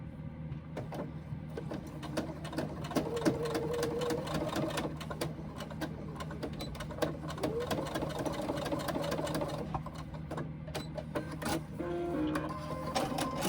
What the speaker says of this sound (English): Then do a basting stitch along that to hold it.